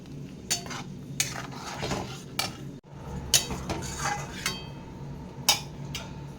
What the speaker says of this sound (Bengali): আর এটাকে আমি ঢাকন দিয়ে কিছুক্ষণ সিদ্ধ করে নেবো